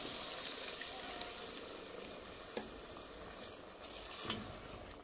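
Whole liquid cream poured into a hot pan for a lamb mechoui sizzles with a steady, soft frying hiss that runs on without pause, no voices over it.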